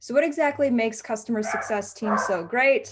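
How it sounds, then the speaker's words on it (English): Two dogs bark in the background of a home while a person speaks steadily over them. "I apologize for the two dogs barking right now."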